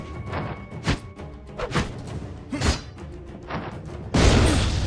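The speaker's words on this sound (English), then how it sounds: "I really don't like that explosion" An explosion in the video game Anima: The Nameless Chronicles: heavy booming thuds and whooshing impacts, ending in a loud, sustained roaring blast, close and forceful.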